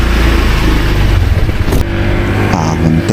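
A Honda ADV 160 adventure scooter accelerates, its engine rising in pitch, close and loud, with a short dip and a shift partway through before it pulls again.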